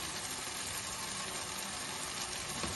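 A ground paste of cashew, poppy and melon seeds sizzles in hot oil during cooking of a cauliflower roast, a steady, faint hiss of frying that runs evenly throughout.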